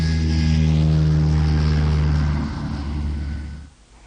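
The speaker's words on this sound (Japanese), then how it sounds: "あ、あれは飛行機です。" A steady, droning engine hum with strong low harmonics, loud and constant, fading out near the end like an aircraft passing by.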